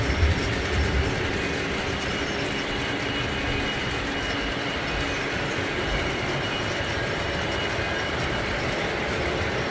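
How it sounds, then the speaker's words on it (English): A long Pennsylvania model train rumbles past steadily on a layout with continuous clattering wheels and rail noise, close and fairly loud, lasting the whole time with no voices. "Wait, I'm getting this whole train going by."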